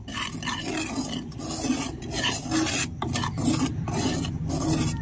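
Rice flour being stirred and dry-roasted in a pan over a low flame, a close, steady scraping and rasping of the spatula against the pan in repeated rhythmic strokes, with no talking.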